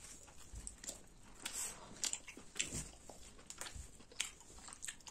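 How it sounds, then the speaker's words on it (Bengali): Someone eats biryani with a chicken leg piece, egg and potato, giving quiet, close, irregular bites and chewing with soft crunchy clicks scattered over a few seconds and no talking. "আমরা এখন বিরিয়ানি খাচ্ছি।"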